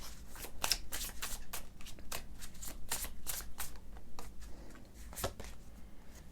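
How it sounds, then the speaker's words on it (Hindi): Tarot cards being drawn and shuffled close up: a quick series of soft papery riffles and flicks, some crisper snaps among them, quiet and with no voice over them. "मैं एक कार्ड और लूँगी यहाँ से"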